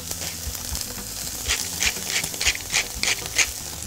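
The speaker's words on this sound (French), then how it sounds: "On va pouvoir colorer tout de suite la pièce de veau" A piece of veal searing in a hot pan, a loud steady sizzle with rhythmic scraping and stirring bursts, close and alone without speech.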